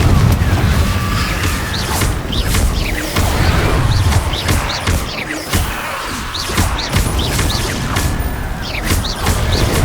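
Confringo explosive spell blasts from the Hogwarts Legacy video game, a dense run of loud booming crashes and thwacks over a constant rumbling battle din, repeated throughout with little pause.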